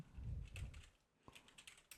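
Rapid clicking of keys on a computer keyboard, a quiet, irregular run of taps with a brief pause partway through.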